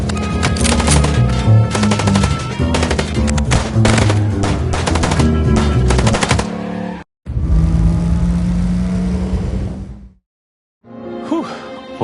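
Rapid automatic gunfire from the detective game Chicken Police, dense bursts with engine-like roars that cut out abruptly twice, loud and close, with no talk.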